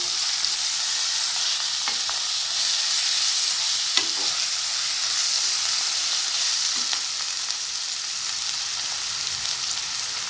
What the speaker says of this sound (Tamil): இஞ்சி பூண்டு பேஸ்ட் போட்டுக்கலாம். போட்டு இதையும் வதக்குங்க. ஒரு 2 நிமிஷம் வதக்குங்க.